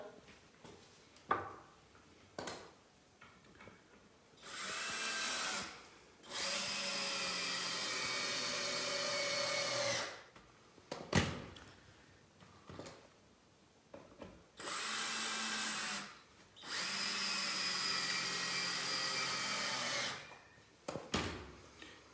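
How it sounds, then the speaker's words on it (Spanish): Power drill driving screws into a wooden board, several bursts of loud whirring separated by pauses, with small clicks and handling knocks between runs. "Entonces voy a atornillar"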